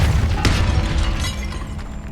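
A Depulso spell blast goes off in Hogwarts Legacy inside a tomb: a loud, booming burst with a sharp crack near the start, followed by a rumbling low-end decay that lingers under the game's ambience.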